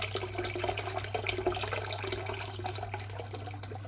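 Lukewarm water pours steadily into a Turkish Uşak tarhana mixture, a soft continuous trickle and splash, close by over a low steady hum, with no talking.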